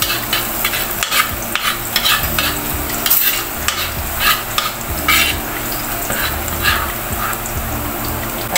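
Garlic sizzles steadily in a hot pan for arroz caldo, with a spoon scraping and stirring through it in repeated close strokes; a dog barks faintly in the background.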